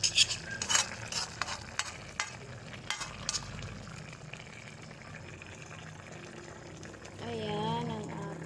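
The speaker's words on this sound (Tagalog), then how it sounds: "Haluin lang natin to." Chicken drumsticks in pineapple sauce are stirred in a simmering pan, with soft scraping strokes and a low bubbling sizzle throughout, under brief voice near the end.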